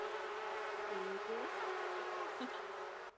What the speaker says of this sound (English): we can hear the bees.